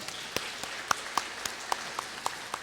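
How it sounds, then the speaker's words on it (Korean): A church congregation at a Sunday service claps in a steady, regular beat, distinct sharp claps repeating about four times a second over a soft background hiss. "우리 하나님께 감사와 영광의 박수 올려드리겠습니다"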